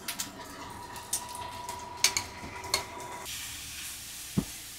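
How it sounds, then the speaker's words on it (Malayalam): Chopped onions frying in a pan with rice grains, mustard seeds and green chilies: a steady close sizzle and hiss broken by a few sharp clinks of stirring. "ഉള്ളിയൊക്കെ ഇട്ട്"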